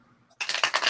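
Tarot cards are shuffled in a quick run of crisp, rapid riffling clicks that start abruptly after a brief quiet moment, close and fairly bright.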